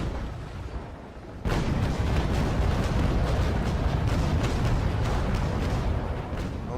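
A ship's cannon fires in a naval video game: a sudden heavy boom breaks in, then settles into a loud, sustained roaring rumble that lasts to the end.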